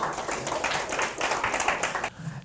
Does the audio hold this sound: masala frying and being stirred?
no